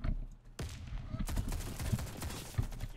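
Fast 12 shotgun fire in the Warface video game, a few sharp shots booming in quick succession over busy combat noise, with faint talk underneath.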